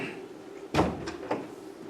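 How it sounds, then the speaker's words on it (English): A door closing during a stage play performance: one firm thud with a brief rattle, followed by a softer knock a moment later, moderately close over a quiet room background. "Close the door."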